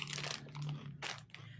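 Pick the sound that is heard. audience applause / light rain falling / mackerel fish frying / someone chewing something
someone chewing something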